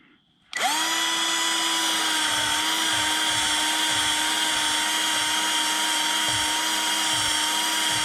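A spinning wire brush on a power tool scours scale and corrosion from a Hyundai Santa Fe ball joint mount, giving a loud, steady high whine that starts abruptly and holds without a break.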